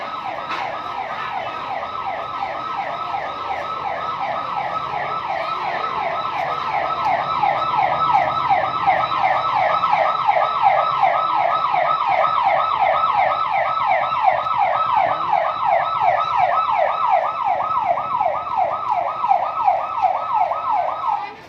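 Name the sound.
ambulance siren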